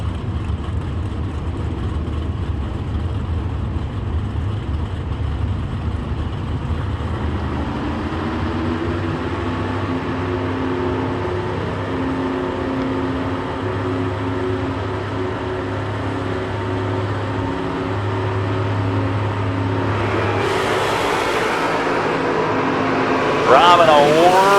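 A roadster drag racing car at a drag strip idles with a deep rumble before revving and roaring off, with a second engine building alongside and a loud high-pitched burst near the end.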